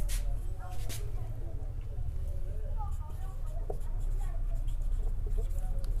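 Hand writing with pen on paper, a soft continuous scratching and scribbling under a steady background hum, with a voice faint now and then.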